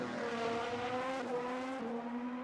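Honda-powered F1 race car engine from F1 2018 at Baku City Circuit, a steady high-pitched whine with a drop and shift partway through, loud and close with no talk.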